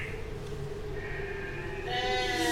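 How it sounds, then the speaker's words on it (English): Sheep bleating as a stage sound effect in a theatre production of The 39 Steps, with several drawn-out, wavering bleats overlapping steadily against a hissy background. "Damn sheep. Get out the way."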